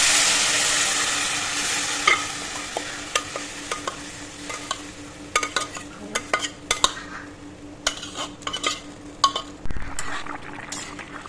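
Boiled bottle gourd is stirred in a hot pan, with a loud sizzle that fades into repeated metal scrapes and clinks against the pan.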